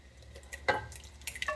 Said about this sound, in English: I'm going to pour this directly into my noodles